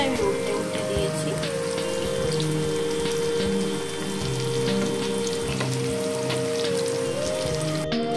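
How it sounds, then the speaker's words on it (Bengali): Pumpkin slices fry in oil with a steady close sizzle and crackle throughout, while a melodic tonal sound plays along underneath. "দেখো এখানে কুমড়ো ভাজাগুলো এক পিঠ হয়ে গেছে, আমি উল্টে উল্টে দিয়েছি।"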